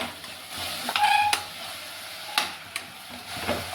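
Coriander and curry leaves are sautéed in a prawn gravy, giving a soft sizzle with a few sharp scrapes and clinks of a spoon stirring against the pan, close and moderately quiet.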